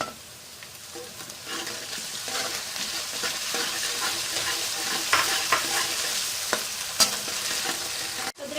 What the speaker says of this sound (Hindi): अब मैं इसमें लहसुन अदरक का पेस्ट शामिल कर दूंगी।